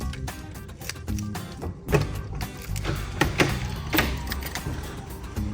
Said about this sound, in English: I'll just unlock the garage